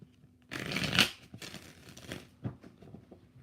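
A deck of tarot cards being shuffled in several short riffling bursts, the loudest near the start, followed by softer handling sounds; no one speaks.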